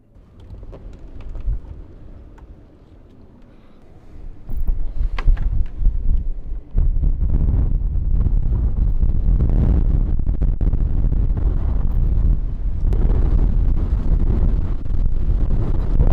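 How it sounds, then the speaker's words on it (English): Strong wind buffeting around a sailing boat during a storm, rising from a quieter gusty start into a loud, continuous roar with heavy low rumble. "I know, it's windy."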